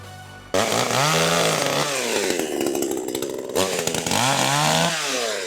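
A GTM chainsaw revs up loudly and keeps running close by, its engine pitch rising and falling as the throttle is worked.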